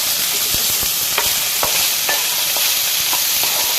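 Chopped carrots and capsicum being stirred in a hot pan for white sauce pasta, a constant bright sizzle under a string of quick clicking spatula strokes, close and even, with no talking.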